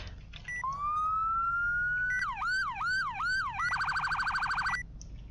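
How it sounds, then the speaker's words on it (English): A police siren in the game Backwoods Law RP cycles through three patterns: a long rising wail, a quicker up-and-down yelp, then a rapid warbling pulse, loud and electronic with no talking. "if you wanted to hear the sirens real quick"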